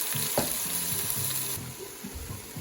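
Shrimp fries in a pan with sauteed garlic and onion, giving a steady close sizzle broken by a few stirring scrapes and clinks throughout.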